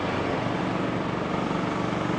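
A lorry rumbles past on a city street, a steady broadband roar filling the short stretch with no pauses and no voices.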